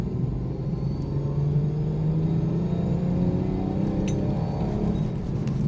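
A B58-engined car pulls hard in third gear on semi-slicks along a dry road, its steady engine drone and road rumble loud and continuous from inside the cabin, with no voices.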